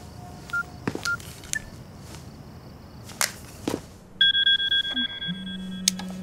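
A telephone number is dialed late at night in a Chinese suspense film: a short run of electronic keypad tones and clicks, then a steady low tone. The sound is fairly close and clear, with no voices.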